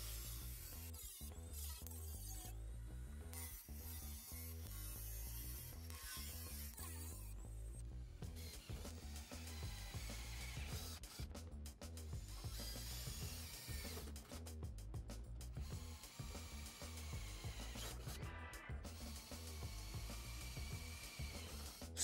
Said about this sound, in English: the rest part of the job was made by the angle grinder, rotary tool and a drill